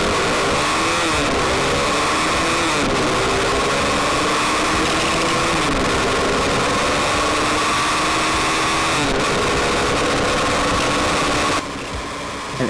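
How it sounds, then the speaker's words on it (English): A fuel-injected Lifan KPR165R motorcycle accelerates hard from a standstill toward 100 km/h, its engine note climbing loudly and steadily, then dropping briefly at each gear change before rising again, with a sudden cutoff near the end. "here's a 0 to 100 test run for the fuel injected variant"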